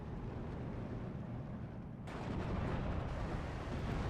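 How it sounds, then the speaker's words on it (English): A Nebelwerfer rocket artillery strike lands in Steel Division 2, a dense roar of rumbling blasts that swells into a louder, brighter barrage of impacts halfway through. "Nebelwerfer strike coming in for that Zis-2."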